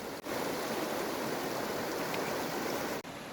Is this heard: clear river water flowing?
yes